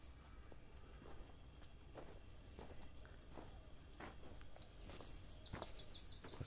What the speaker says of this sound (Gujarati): પક્ષીઓનો કલરવ સંભળાય છે,